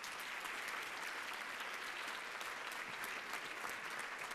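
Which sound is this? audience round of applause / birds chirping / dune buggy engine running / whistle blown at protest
audience round of applause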